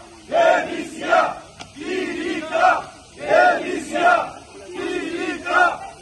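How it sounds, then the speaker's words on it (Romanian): A crowd of AUR party members in Iași boos and chants at mayor Mihai Chirica, demanding his resignation, in about eight loud rhythmic bursts of massed voices with brief pauses between them. "membrii AUR l-au huiduit pe primarul Chirica cerându-i demisia"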